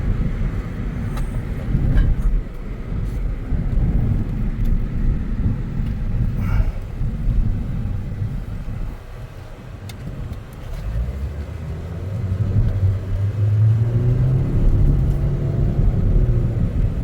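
A 2011 Suzuki Kizashi AWD with a lit check engine light accelerates on the road, its engine and road noise a steady loud rumble with a rising drone near the end, heard from inside the cabin.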